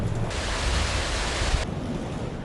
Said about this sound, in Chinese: 西子湾掀起滔天巨浪，浪花不断拍打岸边